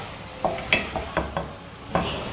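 Grated coconut stirred into a pot of araithu vitta sambar, a handful of distinct scraping strokes of a spoon against the pot, close and moderately loud, with a faint sizzle beneath and no talking.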